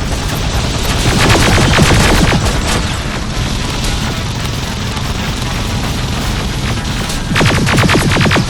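Heavy gunfire in a Terminator: Resistance Enhanced firefight, with dense rapid-fire bursts and booming shots that are loud at the start, ease into steadier shooting, then swell again near the end.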